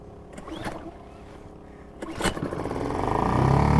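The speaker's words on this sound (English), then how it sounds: "Can maybe lock it off with a little bit of revs on just to start it, and then pull the cord." Small 2.3hp Italian Selva petrol outboard motor on a tender, pull-started by cord: two sharp pull bursts, then the engine catches and runs with a rising, steady buzz, close by.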